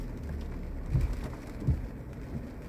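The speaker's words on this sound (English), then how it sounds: "Look at this rain." Heavy rain driven by high winds, a steady dense wash of noise with a couple of low gusty thumps, loud and close with no voices.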